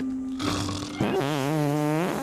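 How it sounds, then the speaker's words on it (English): A comic cartoon fart from the Total Drama Island animated series, a long, wobbling, buzzy tone that rises and warbles for about a second, heard up close with no talking. "He was laying on his butt and then he farted on his face."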